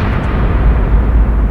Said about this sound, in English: Explosion will be massive.